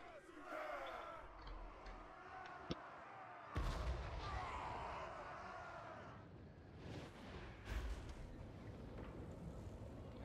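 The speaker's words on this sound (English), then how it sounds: "I keep seeing the tree explode because the hell cannon's shooting the tree in front of it" Hell cannon artillery fire in the Total War: Warhammer 3 battle game, heavy booming shots going off a few seconds apart over a constant din of battle and crowd noise.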